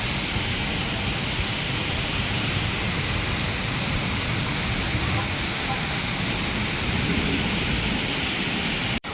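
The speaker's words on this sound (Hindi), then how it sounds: "गिरे जा रही है बारिश, तो वाह इतनी तेज़" Torrential rain pours down during a violent storm around a building, a loud, steady wash of heavy rainfall filling the whole stretch, with a deep rumble in the low end that cuts off abruptly at the end.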